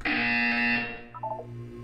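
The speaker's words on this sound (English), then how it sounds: "You will hear a buzzer." A Portal 2 test-chamber buzzer sounds one harsh, distorted tone that holds for most of a second, then decays into a brief warbling electronic tail.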